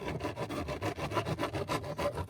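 A woodworking hand tool, likely a saw or rasp, rubs and cuts steadily to widen a hole for a car's AC outlet or cigarette lighter socket, its rough back-and-forth strokes repeating close up with no talking.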